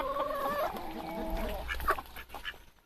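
Chickens in a coop with a rooster and hens, including ketawa, jersey, cemani and meusienne birds, clucking and calling loudly up close, a drawn-out crow-like call in the first half, then scattered clucks fading out.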